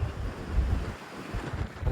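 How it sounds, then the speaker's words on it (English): Strong wind buffeting the microphone at an outdoor Rivian charging stop on a winter road trip from Illinois to Kansas City, low gusty rumble rising and falling without speech. "it is so windy"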